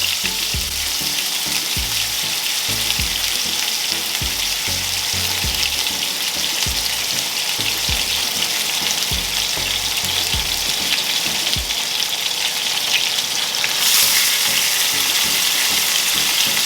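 Oxtail pieces sizzling and frying in a hot pan for Caribbean oxtail, a steady loud crackling hiss that continues throughout with no talk over it.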